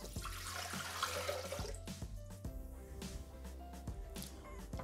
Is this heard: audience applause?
no